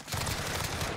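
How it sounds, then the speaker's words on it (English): Pistol fire in the video game Warzone, a fast run of shots packed into one second of steady, dense crackle, moderately loud, with no talking. "why would you shoot me with a pistol if you can't even fight back?"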